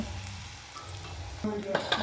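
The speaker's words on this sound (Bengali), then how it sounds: "একেবারে লাল লাল মুচমুচে করে ভেজে নেব" Pumpkin fritters frying crisp in hot oil make a soft, continuous sizzle with bubbling, joined near the end by a brief scrape or clatter of a utensil.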